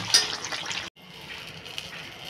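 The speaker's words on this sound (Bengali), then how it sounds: "তরকারিটা ঢেলে নিয়েছি" Curry pours from a pan in a home kitchen, a short wet gushing slop that stops abruptly and is followed by quieter sizzling background noise.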